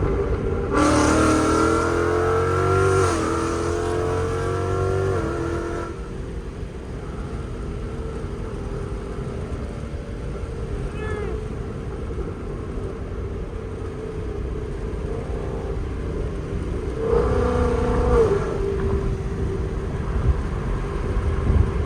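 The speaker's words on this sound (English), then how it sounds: "Downshifts are so aggressive." A straight-piped 5.0 V8 car driven late at night snarls through aggressive downshifts and revs, with loud bursts near the start and again near the end around a steady engine drone.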